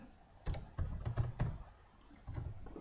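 Quick bursts of typing on a computer keyboard, close and quiet, several rapid key clicks in two short runs separated by a brief pause.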